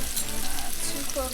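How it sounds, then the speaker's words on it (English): Butter sizzles hard in a hot pan where steaks are cooking, a loud, dense, close crackling hiss that runs unbroken through the short moment with no talk. "gonna throw some butter in the pan, as well"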